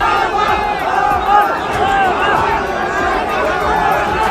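A large crowd packs the area outside Lal Parade Ground, a dense roar of shouting and cheering voices that holds steady and loud throughout.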